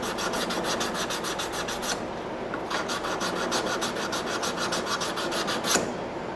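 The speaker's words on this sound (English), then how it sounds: "I'll even wrap the sandpaper around it, then I'll get up there and get all those scratches out of where the ricasso starts." Sandpaper is wrapped around a steel knife blade and rubbed by hand in quick, rhythmic back-and-forth strokes, a close, even rasping scratch with a brief pause partway through.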